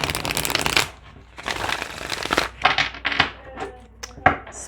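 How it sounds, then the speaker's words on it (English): A tarot card deck is shuffled by hand in several bursts of riffling, crisp card flutter separated by short pauses and soft taps as the cards settle, close and clear. "I'm gonna shuffle this deck one more time"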